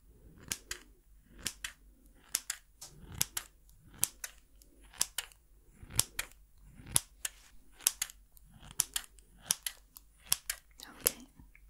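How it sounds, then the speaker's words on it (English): Sharp scissor snips repeat in quick pairs and clusters of crisp clicks, close and quiet, with soft whispered speech between the cuts. "Scissors. Scissors."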